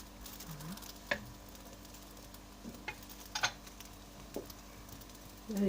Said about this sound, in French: la pâte a été déposée sur la poêle